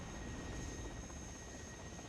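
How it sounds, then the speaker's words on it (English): A helicopter in the WARNO war strategy video game gives off a steady, faint, low rotor-and-engine drone that holds unchanged throughout. "Really weird little helicopter with some gun pods."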